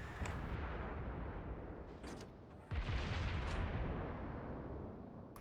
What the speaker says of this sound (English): I'll try an AP salvo on him